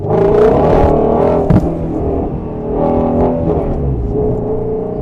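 A Ford Mustang GT350 engine revs hard and surges as the tires lose traction, with a short sharp burst partway through, loud and close, then keeps droning at high revs.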